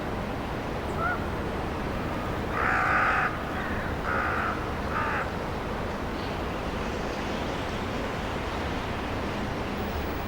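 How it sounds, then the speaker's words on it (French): Several hoarse caws from common ravens ring out in a short cluster over a steady roar of wind or rushing air. "Les grands corbeaux en profitent pour venir le chahuter."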